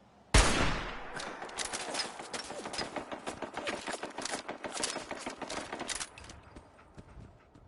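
Rapid, dense volley of sniper rifle shots in Fallout 4, crackling sharply and steadily for about six seconds at close range, then stopping abruptly with no talk over it.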